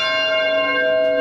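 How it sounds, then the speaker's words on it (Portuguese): A large church bell rings out in a belfry, one sustained, loud strike with rich metallic overtones ringing steadily through the whole moment, alone with no voices. "Estavam todos ocupados em prestar atenção às badaladas."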